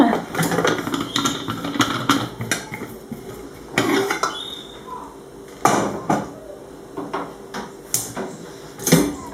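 A lid is lifted from a cooking pot of white beans in sauce, bringing a series of close metallic clanks and knocks of lid and utensils at uneven intervals, with quiet gaps between.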